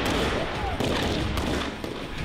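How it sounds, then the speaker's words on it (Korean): Dense, continuous gunfire crackles throughout a South Korean army small-unit combat movement firing drill for encounter battles, with rapid overlapping shots forming a loud, unbroken barrage. "다음은 조우전 대비 소부대 전투 이동간 사격 훈련이 전개되는데요."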